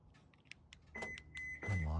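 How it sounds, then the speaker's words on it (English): A Subaru being unlocked: soft clicks and a brief beep, followed by a whirring motor and a mechanical clunk as the car responds, fairly quiet and close. "Unlock it real quick."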